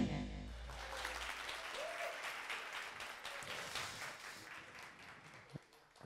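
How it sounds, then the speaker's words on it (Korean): Thin, scattered applause from a lecture audience at Jung Chung-rae's 2016 talk, faint and distant, with a few claps and a brief knock standing out near the end. "박수 소리가 적어요."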